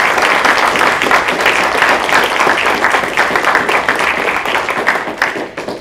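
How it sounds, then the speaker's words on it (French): Dense, steady applause from an audience thanking speakers at a French talk on careers in industrial property law, loud and continuous throughout, tapering slightly at the end with no speech over it. "je crois qu'on peut les applaudir pour les remercier"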